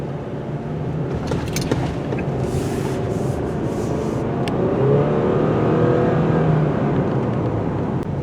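A 2024 Subaru Crosstrek drives along mountain roads at night, its engine a steady low hum with tire and road noise and a slight swell partway through, close and continuous with no talking.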